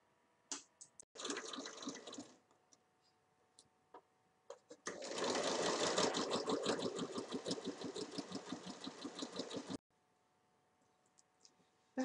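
Sewing machine stitching backpack fabric panels right side to right side along their full length: a short burst of rapid needle clatter, a pause, then a longer steady run of stitching that stops abruptly, close and clear with no talking.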